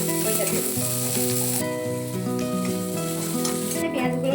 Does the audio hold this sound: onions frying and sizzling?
yes